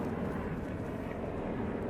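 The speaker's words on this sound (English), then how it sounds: "we'll wait for those helicopters" Helicopters overhead at an outdoor vaccination site produce a continuous low, rumbling rotor drone, moderately loud and unbroken for the short span.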